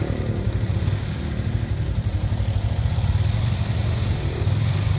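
A learner rider's motorcycle engine runs steadily at close range for the whole stretch, a low throbbing idle and rumble with slight rises as clutch and throttle are eased during third-day riding practice.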